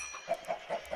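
Chickens in Minecraft clucking in short, evenly spaced bursts, close and fairly quiet, with no talking over them.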